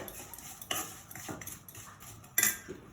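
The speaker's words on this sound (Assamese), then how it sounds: "অলপমান পানী দি আমি লৰাই থাকিব লাগিব পাকটো নুঠালৈকে।" A spoon stirs jaggery with a little water in a pan, giving close metallic scrapes and a few louder clinks against the pan over a quiet background.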